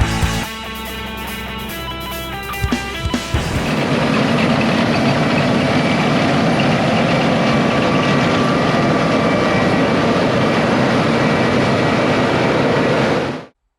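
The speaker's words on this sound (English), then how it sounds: "That is one good-looking tractor and grain cart." A tractor pulling a grain cart during the 2020 wheat harvest near Pine Bluffs, Wyoming, with a loud steady engine drone filling the recording; the first few seconds carry broken, rhythmic tonal bursts before the engine noise stays constant until an abrupt stop.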